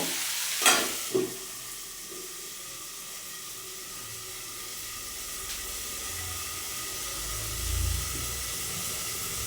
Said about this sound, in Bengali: মশলাগুলো দিয়ে ভালোভাবে কষিয়ে নিলাম।